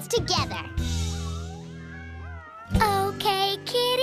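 Cartoon cats meowing and yowling in a children's animated show, a run of drawn-out, pitch-bending meows up front followed by several shorter, higher cries, close and clear.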